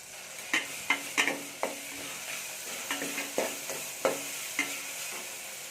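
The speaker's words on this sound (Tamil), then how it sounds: "தக்காளி சேர்த்து நல்லா வதங்கணும்" Onion and tomato fry in a pan for a mutton curry, with a steady sizzle under repeated scraping strokes of a spoon stirring at an uneven rhythm, close and moderately loud.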